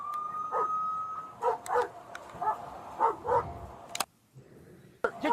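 A dog barks and yips in repeated bursts at moderate distance, mixed with whimpers, during a police body camera encounter, with a steady tone and a sharp clatter near the end.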